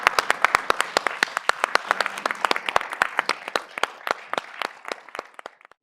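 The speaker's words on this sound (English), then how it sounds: "stand up and give this incredible panel" A conference audience stands and applauds a panel on second chance employment, with loud close claps cracking out in a fast irregular run over a steady crowd wash for about six seconds before tapering off.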